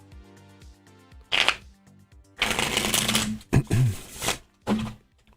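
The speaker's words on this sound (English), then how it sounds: "Let's shuffle you up another 2 or 3 times" A tarot deck is shuffled by hand in several quick riffling bursts of card flutter, separated by short pauses over a quiet background hum.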